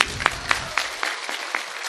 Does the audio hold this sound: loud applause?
yes